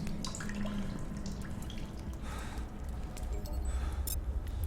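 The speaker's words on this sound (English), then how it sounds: "There's a water source." Water drips in a cave in The Solus Project, faint scattered drops and light patter over a low ambient rumble, with no one talking.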